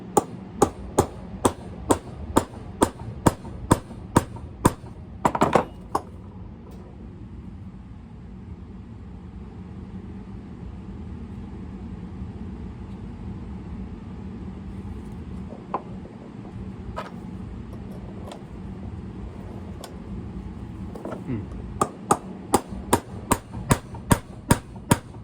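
Sharp metallic hammer blows on a punch driven into a 1980 Millers Falls 980 two-speed hand crank drill during disassembly, a rapid run of even strikes, then a long quiet stretch, then another quick burst of strikes.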